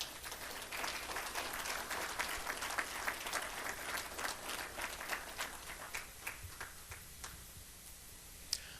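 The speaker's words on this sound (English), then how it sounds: "Please give me a clap offering," A church congregation at a faith-based community award ceremony claps steadily for nearly nine seconds, with dense, crisp hand claps that thin toward the end, close and moderately loud, with no speech over it.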